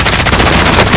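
Rapid unsuppressed automatic gunfire in the Call of Duty Modern Warfare video game, a loud continuous burst with no pauses, heard alone without talk.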